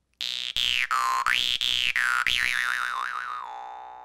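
A jaw harp twangs loudly and close, its buzzing reed drone bending up and down in wah-like sweeps with quick rhythmic plucks, then warbling rapidly before settling onto a steady tone.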